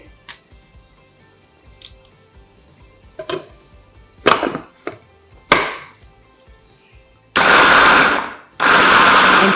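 Several sharp knocks and clatters come first, then a blender whirs loudly through garlic, soy sauce and honey in two strong bursts separated by a brief pause.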